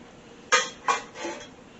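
Stuffing being scraped into a dish and stirred, with three clattering utensil-on-dish knocks spaced under a second apart, close and moderately loud against a quiet room.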